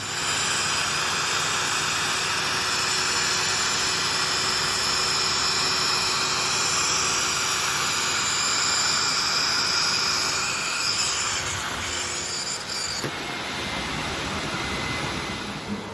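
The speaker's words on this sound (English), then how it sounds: "this is our Cymex machine, absolutely tearing through those marks and that we saw on the carpet earlier" A Cymex carpet cleaning machine scrubbing heavily soiled commercial carpet stained with tanning oil and beetroot juice, giving a loud, continuous roaring whoosh close by that holds steady throughout and shifts slightly near the end.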